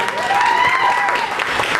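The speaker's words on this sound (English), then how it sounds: "Give me a round of applause, go ahead, do that" Banquet guests of the Rotary Club of Freeport applaud at its 60th anniversary and installation dinner, steady clapping close by with a voice carrying over it.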